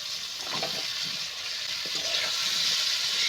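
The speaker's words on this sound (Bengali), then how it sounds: "এবার নেড়ে চেড়ে আমি কষিয়ে নেব।" Green banana pieces frying and being stirred with potatoes and a fish head in a pan, a steady bright sizzle throughout with soft scraping stirs near the start and again partway through, no voices.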